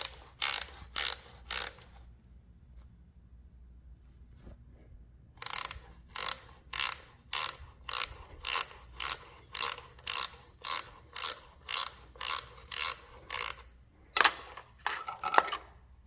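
A ratchet wrench clicks in quick, crisp strokes while loosening a nut on an Oliver 88 tractor engine, with a few short bursts, a pause, then a long steady series of close ratcheting clicks.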